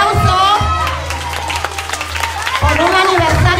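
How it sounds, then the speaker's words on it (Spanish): Audience applause at a school anniversary celebration, a crowd clapping and cheering under a loud amplified voice talking through a microphone over the start and end. "Entonces, un fuerte aplauso"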